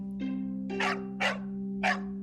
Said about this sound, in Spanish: Tan gruñón como él mismo, su perro ladró a la puerta.